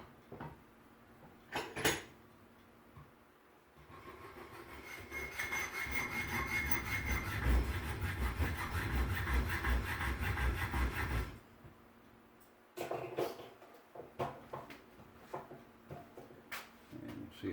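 A hand saw cuts off excess wood from a gun stock, starting with a few short strokes, then running as a sustained rhythmic rasping of back-and-forth strokes for about seven seconds, followed by scattered scrapes and knocks.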